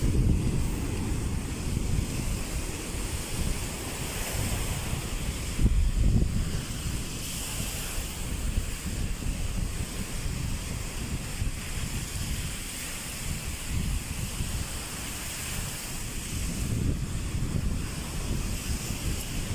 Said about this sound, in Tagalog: Ayaw pa humina ng alon para makalaot na.